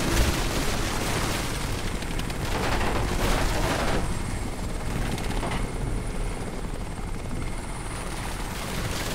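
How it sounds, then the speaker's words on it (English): Steady, loud thrum of a helicopter's rotors and engine in the video game Crysis, continuous for the whole stretch, with faint bursts of gunfire mixed in. "We need to do something about this helicopter"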